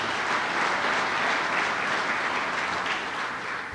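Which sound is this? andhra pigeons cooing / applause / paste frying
applause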